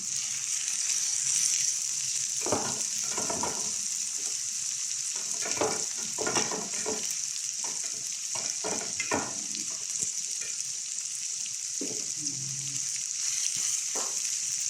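Fried tofu and bean sprouts sauté in a pan, a loud continuous sizzle running throughout with bursts of stirring and scraping in the middle.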